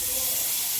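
Moth beans (matki) hit hot oil tempering with a loud, steady hiss and sizzle, a bright spitting sound that fills the whole short moment with no break.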